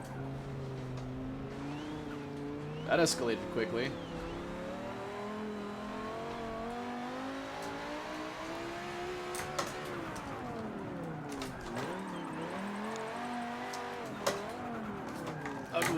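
Car engine revving hard through short gears with tires squealing while drifting online in Forza, the pitch swooping up and down continuously over a steady loud roar, with a person briefly speaking.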